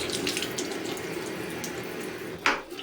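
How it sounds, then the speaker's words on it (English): A newly installed Moen faucet runs with a steady, close hiss of flowing water into a sink, ending with a brief clunk of the handle. "and our water's on."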